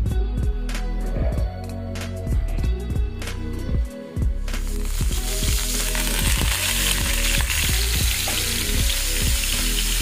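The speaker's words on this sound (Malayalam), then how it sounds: "മീൻ കഷ്ണങ്ങളൊക്കെ പൊരിക്കാൻ വേണ്ടിയിട്ട് ഇടുകയാണ്." Fish pieces marinated with lime, chili and salt are dropped into hot oil and fry with a dense, crackling sizzle. The sizzle swells louder and fuller about halfway through and carries on steadily to the end.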